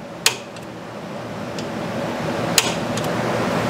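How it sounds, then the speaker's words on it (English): Hammer striking a center punch into a metal part before drilling, two sharp isolated knocks over a steady fan-like background hum. "Knock a punch in it."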